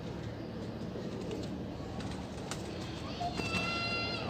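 Pigeons coo at a bird market in Multan, soft calls rising out of a busy background murmur, with clearer birdsong-like notes toward the end.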